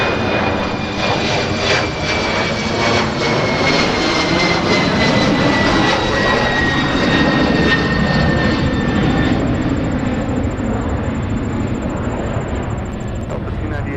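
Airliner engines at Minneapolis–St. Paul airport, a loud steady roar with a rising whine, filling the whole stretch close by and continuous throughout.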